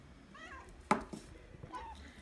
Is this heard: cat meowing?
yes